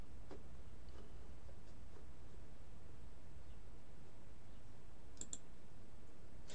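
A computer mouse gives a handful of soft, sparse clicks against quiet room noise, including a quick double click near the end.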